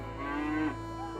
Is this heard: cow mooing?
yes